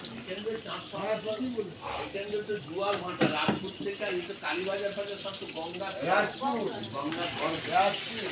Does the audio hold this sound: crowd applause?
no